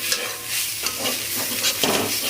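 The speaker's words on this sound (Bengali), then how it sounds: "এদিকে হচ্ছে কলমি শাক ভাজা" Water spinach (kalmi shak) stir-frying in a pan with five-spice tempering, a steady close sizzle with soft stirring scrapes and small crackling bursts throughout, no voices.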